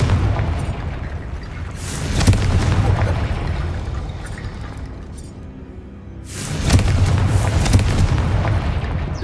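Confringo blasting spell explosions in Hogwarts Legacy, with loud, booming blasts and rumbling debris filling the clip, swelling twice with sharp impacts and dipping briefly between them.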